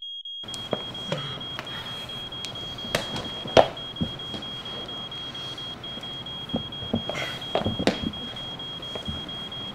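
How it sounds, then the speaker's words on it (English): A steady high-pitched electronic alarm tone beeps continuously throughout, with scattered thumps and clatter around it and no speech. "What is that beeping?"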